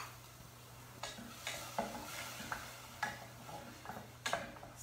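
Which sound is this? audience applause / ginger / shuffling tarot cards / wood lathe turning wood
ginger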